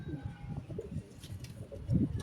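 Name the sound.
pigeons cooing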